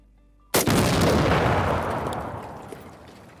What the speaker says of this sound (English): That's blowing up a truck, so let's get a nice big explosion and maybe a little shrapnel going.